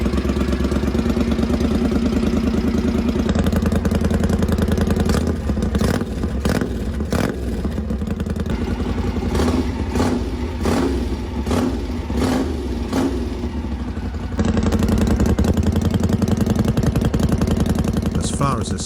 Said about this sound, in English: this stainless steel exhaust system that required 2 weeks of labor. And it sounds really good.